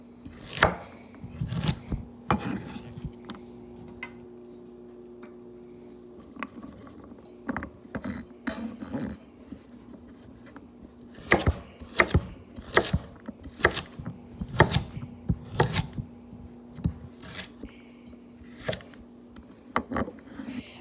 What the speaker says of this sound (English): After we cut the carrots up, we'll break and come back.